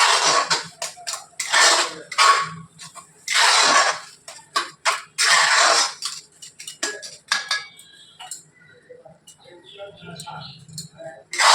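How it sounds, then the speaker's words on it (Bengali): Lotte (Bombay duck) fish being stirred in a pot with a utensil, giving intermittent scraping and clinking knocks between stretches of close speech. "দেখুন আমি এটাকে মিশিয়ে দিচ্ছি।"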